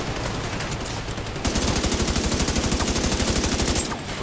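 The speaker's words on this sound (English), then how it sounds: "Keep shooting." Sustained automatic machine gun fire in The Division 2 video game, a rapid, steady rhythm of loud close shots that speeds up and intensifies after a brief denser background of gunfire.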